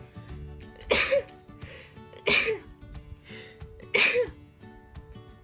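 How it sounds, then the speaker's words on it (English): Three loud sneezes from one person, evenly spaced about a second and a half apart, close to the listener with quiet in between. "The sun making me sneeze."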